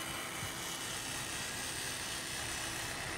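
A Traxxas TRX-4 RC truck running at full throttle, its electric motor giving a steady, loud, high whine that holds constant with no talking.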